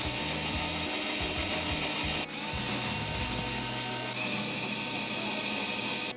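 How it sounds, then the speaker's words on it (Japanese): A power drill bores a hole in wood, a continuous whirring buzz with a slight shift in tone partway through, fairly loud and alone throughout. "こんな感じでかなり綺麗に穴開けれたと思います"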